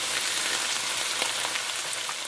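Shrimp and vegetables for lo mein fry in a pan with a steady, close, hissing sizzle and faint crackles, uninterrupted by any voice.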